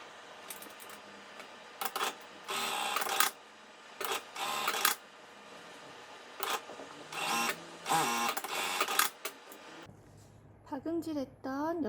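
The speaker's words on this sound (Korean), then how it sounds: "창구멍을 제외하고 1cm씩 박음질 하도록 하겠습니다." A sewing machine stitching fabric for a drawstring bag runs in several short, loud bursts of fast mechanical whirring separated by pauses. A person speaks near the end.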